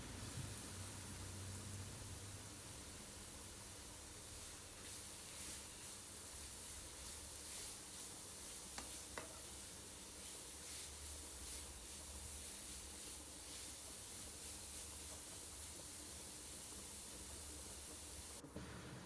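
Grated carrots fry in ghee in a pan for carrot halwa, giving a steady, even sizzling hiss that runs unbroken throughout without talk.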